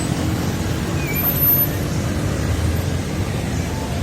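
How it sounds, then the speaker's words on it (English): Steady low rumble of street traffic with engines droning by, a continuous roadway hum and no voices. "if you look behind me, you can hear the traffic"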